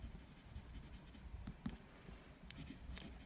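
Medium-nib fountain pen in green marble, inked with Diamine Sherwood Green, writing on paper: a faint, steady scratchy glide with a few slightly sharper strokes near the end, quiet and close with no talking.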